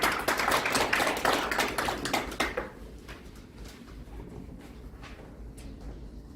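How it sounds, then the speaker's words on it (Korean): An audience at a forum seminar claps to welcome a speaker. A burst of lively applause fades after a couple of seconds into a few scattered, lingering claps. "여러분 크게 박수 보내주시기 바랍니다."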